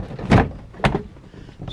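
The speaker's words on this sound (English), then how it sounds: "you're just going to grab the bottom of the door and pull up" A door panel on a Ford Ranger is pulled up off the door, giving two loud plastic scraping pops close up, followed by a fainter rustle at the end.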